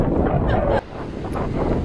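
Wind blowing by the ocean in Denmark, loud buffeting gusts roaring across the microphone, dropping suddenly partway through and then building again.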